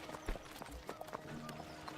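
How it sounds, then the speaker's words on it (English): Horse and carriage moving in the game Kubifaktorium, with soft rhythmic clip-clop of hooves, faint and steady under a quiet game soundscape. "Transport an item using a horse and carriage."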